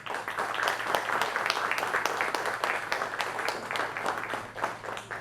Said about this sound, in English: please join me in welcoming him with a warm round